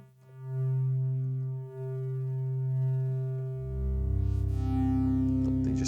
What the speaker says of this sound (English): you can hear the kind of distortion or some kind of artifact in the triangle sound